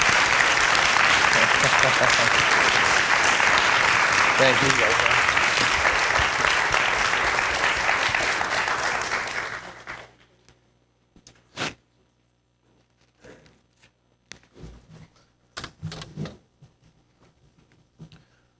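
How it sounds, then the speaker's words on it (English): A school district audience at a State of the District event gives students a round of applause, loud sustained clapping that fades out after about ten seconds, followed by scattered faint noises and a brief spoken thanks. "can we give one more round of applause to our students here?"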